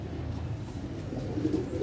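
Teddy pigeons coo softly nearby, a brief low throaty murmur over a steady background hum.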